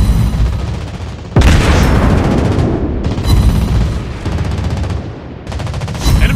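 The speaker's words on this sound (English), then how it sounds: "Enemy aircraft incoming! Anti-aircraft gun on full alert!" Anti-aircraft guns fire during a video game skirmish, producing loud, dense bursts of booming gunfire with brief lulls between volleys.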